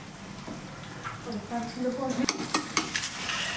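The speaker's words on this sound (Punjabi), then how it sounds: "ਹਰੀ ਮਿਰਚ ਲਸਣ ਤੇ ਪਿਆਜ਼ ਪਾਇਆ" Green chilli, garlic and onion fry in a tadka for a village-style cauliflower dish. A sizzle builds while a spatula stirs and scrapes the pan close by, with metallic clinks getting louder toward the end.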